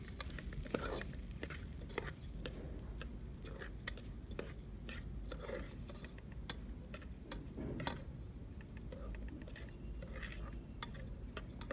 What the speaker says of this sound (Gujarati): મીડિયમ ફ્લેમ પર આપણે આ ફાડાને સરસ શેકવાના છે